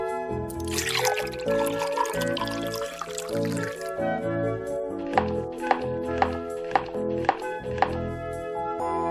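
Water pours into a pot in a kids' restaurant cooking game app: a few seconds of splashy, hissing flow over cheerful background music, then tapping plinks continue under the tune.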